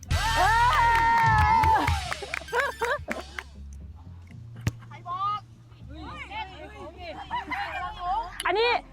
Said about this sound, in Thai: ขอเสียงเชียร์หน่อยดิ